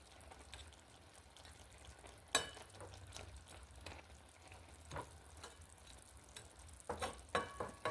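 Til mocha (banana flower) curry simmers in a pan with a faint, low bubbling and sizzle, broken by occasional soft clicks and stirring knocks, quiet and close, with no talking.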